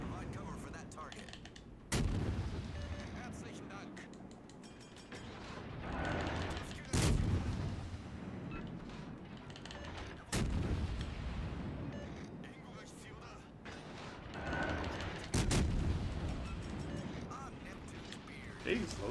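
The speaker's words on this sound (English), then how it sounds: "why are you shooting me?" Battleship artillery fire in the World of Warships Legends game, Soviet battleships involved: heavy booming salvos land about every few seconds, loud over a rumbling battle background, with a voice talking throughout.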